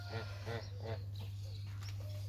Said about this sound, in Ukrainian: Ну, гуси є гуси.